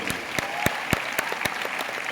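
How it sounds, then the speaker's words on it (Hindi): Steady applause from an audience at a Crown Diamond celebration in a hall, a dense wash of clapping with a few louder individual claps standing out. "एक बार जोरदार ताली हो जाए,"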